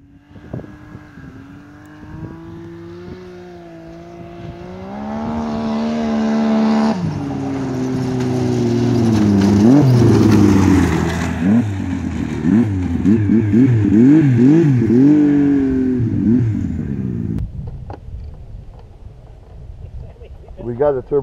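A snowmobile fitted with a Turbo Dynamics exhaust and Turbo Force muffler idles, then revs repeatedly, its engine note rising and wavering loudly in rhythmic surges before settling back down.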